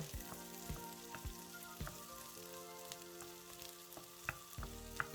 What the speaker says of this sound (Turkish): 1-2 dakikada böyle karıştırıp kavuralım